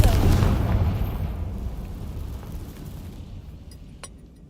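Confringo blasting spell explodes in Hogwarts Legacy: a loud, deep boom at the start that rumbles and slowly fades over several seconds, with a faint sharp pop near the end.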